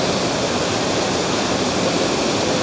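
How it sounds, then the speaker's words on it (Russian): Steady, dense roar of the Todtnau waterfall in southern Germany crashing nearby, a constant broadband rush of water with no pauses or voices. "Смотри сверху, как вода бьет."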